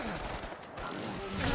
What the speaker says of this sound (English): And if I put in the whole clip of a shotgun,